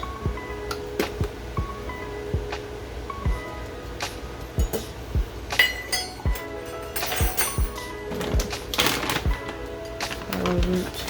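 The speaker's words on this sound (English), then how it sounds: "I'm gonna mix everything right here" Coconut flour, arrowroot and homemade baking powder for gluten-free, dairy-free pancakes are stirred together in a bowl, giving a run of light clinks and taps of utensil on bowl, close and fairly quiet, with a voice speaking now and then.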